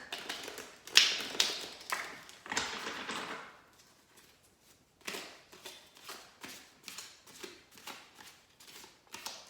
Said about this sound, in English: Shuffling really clears my head.